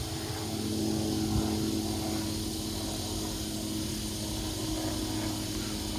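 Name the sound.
helicopter flying by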